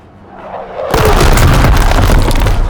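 Artillery explosions from a fire mission in a video game: a low rumble swells, then breaks into a loud, sustained roaring blast that fills the rest of the moment, with no voices.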